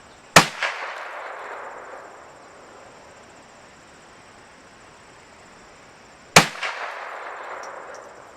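A Marlin 795 rifle firing rimfire rounds outdoors, two sharp loud cracks about six seconds apart, each ringing out briefly before fading, with insects chirping faintly in the background.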